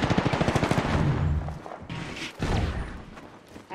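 Rapid automatic gunfire in Apex Legends, a close, loud burst of evenly spaced shots for over a second, then scattered heavier impacts and thuds as the firefight continues.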